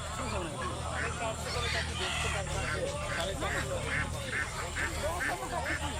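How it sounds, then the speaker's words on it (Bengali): Chickens and ducks for sale at a busy village market in rural Bengal cluck and call in a dense, continuous din, with repeated bird calls and people talking and bargaining around them. "পুরো বাজারেই হাঁস মুরগিতে ভরপুর।"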